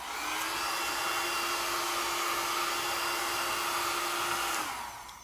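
A hair dryer blows steadily over wet metallic acrylic paint, a loud continuous whooshing roar that holds level, then winds down at the end.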